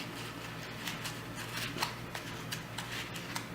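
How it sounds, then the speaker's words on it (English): Soft paper towel is crumpled and scrunched by hand, a steady run of crinkling rustles with sharper crackles scattered throughout, close and fairly quiet with no talk. "So you get your paper and you have to crumple it up"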